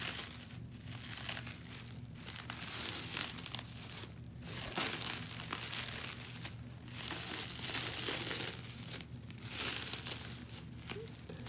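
A toy baby doll being unwrapped from crinkly plastic packaging, with continuous crackling and crumpling close by in bursts of handling and brief pauses.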